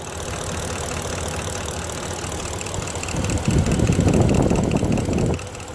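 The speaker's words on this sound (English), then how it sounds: "So this is running on propane right now." A 355 hp GM engine converted to run on propane LPG, idling with a steady mid-pitched rumble that swells louder for a couple of seconds before settling back, close by with no talk.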